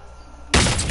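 Sniper gunfire in a PS4 shooter game, a single loud, abrupt shot halfway through that bursts out of a quiet background and rings on briefly.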